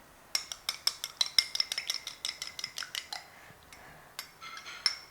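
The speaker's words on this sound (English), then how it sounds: "Now I am going to put the egg also." A bowl of date bread batter with an egg being worked in, heard as a rapid run of close, light clinks and taps of a utensil against the bowl, then a few scattered knocks, with no talking.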